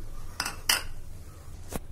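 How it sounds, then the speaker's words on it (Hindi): Metal spoon clinking and scraping against an iron kadhai while wheat flour roasts in melted ghee, three sharp separate knocks over a quiet background. "अब इसको लगातार चलाते रहेंगे जब तक ये लाइट ब्राउन ना हो जाए"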